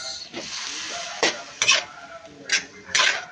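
Beef paksiw being stirred in a pot with pepper, salt and beef cubes, a Bikol-style dish, heard as a few sharp scrapes and clinks of a utensil against the pot over a soft background sizzle.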